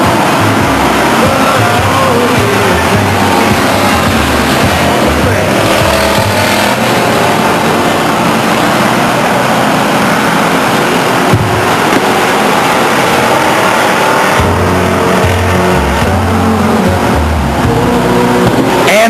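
Race cars circle Stockton 99 Speedway in 1999, with a continuous loud roar of engines revving and passing, rising and falling over the whole stretch.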